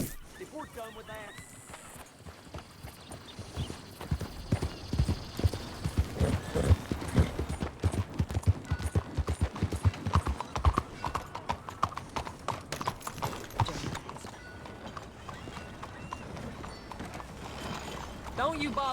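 Rhythmic clip-clop of horse hooves walking at a steady pace, close by, with brief speech and a whinny mixed in, in the video game Red Dead Redemption 2.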